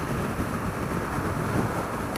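Steady, heavy wind buffeting the microphone while riding a Honda CBR125 motorcycle at 60 mph on a motorway, a constant low roar with no letup.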